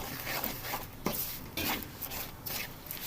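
Caramelized sugar mixed with rice and sesame flour is stirred in a pan, giving steady scraping and rubbing strokes with occasional sharper clinks of the utensil against the pan, close and fairly loud, with no voices.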